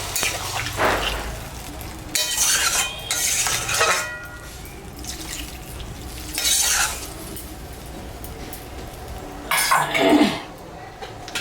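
A lid is set onto a cooking pot of taro curry with fish head after water has been added, giving scattered clinks and scraping knocks over a soft kitchen background, with a louder metallic placement near the end.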